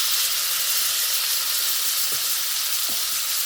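Salmon sears in a pan over medium-high heat, giving a steady, close, unbroken sizzle and crackle of hot oil for the whole stretch, with no talking.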